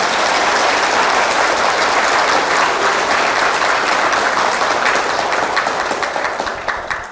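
Strong, continuous applause from a lecture audience, with many hands clapping close and loud that eases off in the final moments.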